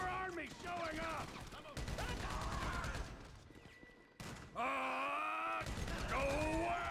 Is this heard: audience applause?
no